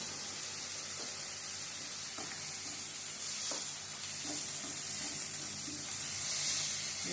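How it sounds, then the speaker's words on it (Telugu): Sliced onions, salted, sizzle steadily in a hot pan while being fried for a carrot and beetroot stir-fry, with a soft, even crackle and occasional stirring clinks, fairly quiet and with no voices. "ఉల్లిపాయ బాగా ఎర్రగా వేగేదాకా వేయాలి."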